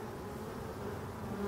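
Honey bees of a forest-origin strain buzz around their hives in late summer, a dense, continuous hum close by that swells slightly toward the end.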